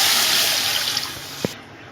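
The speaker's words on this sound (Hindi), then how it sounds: "अब इसके अंदर हम डालेंगे पानी।" Water is poured into a cooking pot of roasted spices for kadhi pakora, making a loud, splashing gush that stops abruptly near the end and is followed by a faint clink, with no speech.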